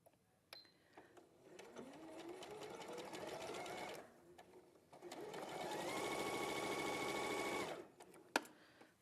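An overlocker stitching seams on a dress runs in two steady whirring bursts of a few seconds each, separated by a short pause and followed by a sharp click, close and loud.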